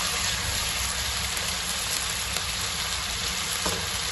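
Steady, close sizzling of onions frying in ghee in a pan for Kachnar gosht, a continuous crackling hiss with no pauses and no voices.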